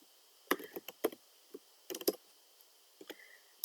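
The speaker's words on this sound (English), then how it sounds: "I'm going to type" Typing on a computer keyboard, heard as short clusters of close, crisp key clicks with small gaps between them and no talk.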